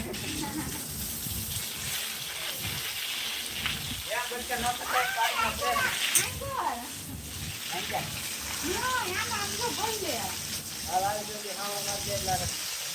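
Water gushes in a constant hiss from a broken irrigation pipe on a farm, running steadily beneath a man's nearby speech for the whole stretch.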